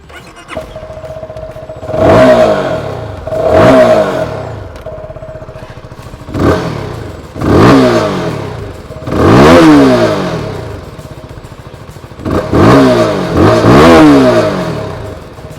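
A Keeway K300N street motorcycle engine revs hard again and again, about eight loud throttle blips rising and falling over a steady idle, close by.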